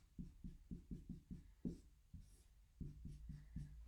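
Pen or marker strokes write out a calculus equation on a board, a quick series of short scraping strokes in rhythmic bursts, close and clear with a brief pause midway and no talk.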